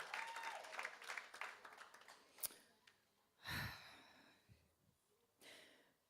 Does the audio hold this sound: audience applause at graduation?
yes